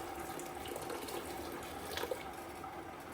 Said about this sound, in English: Dump the water out of it.